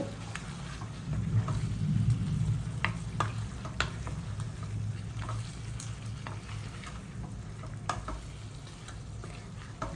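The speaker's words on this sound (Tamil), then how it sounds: "காஞ்ச மிளகா ஸோ இதையும் இது கூட போட்டு நல்லா வதக்கிடுங்க" Quail pieces and torn dried red chillies sauté in a pan for a Chettinad quail pepper fry, giving a steady hiss of frying oil. Occasional scrapes and clicks of stirring stand out above it, and no one speaks.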